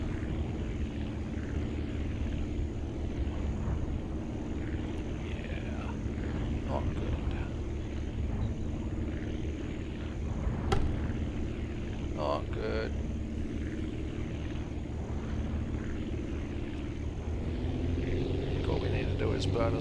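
Aircraft engine held at steady throttle in the flying game Aviassembly, a continuous droning propeller hum with a constant low rumble that persists throughout, while someone talks over it.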